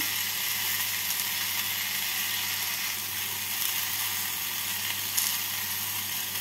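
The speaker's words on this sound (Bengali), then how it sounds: "বেগুন আর আলুর সাথে টমেটোটাকে ভালো করে নাড়াচাড়া করে নিয়ে" Eggplant, potato and tomato frying in a pan while being stirred, a dense, even sizzle with faint scraping throughout and no talking.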